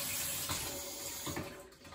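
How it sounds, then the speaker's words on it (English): Warm tap water pours steadily into a neti pot, a continuous close rushing stream with slight surges, no voices. "Filling up the pot."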